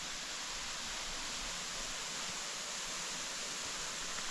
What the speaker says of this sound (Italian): E qui sotto invece c'è la parte della cascata e del rio.